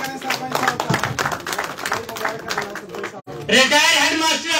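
Audience clapping to welcome a village sarpanch on stage at a public gathering in Jammu and Kashmir, uneven bursts of hand claps mixed with chatter and an announcer's voice, fading briefly before a louder burst of applause swells again.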